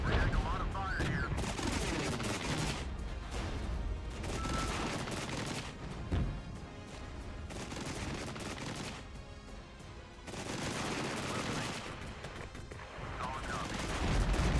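Sustained gunfire from a Regiments wargame battle at Gotha, with volleys and bursts rolling on steadily for the whole stretch, swelling and easing in waves with occasional heavier booms and no pause.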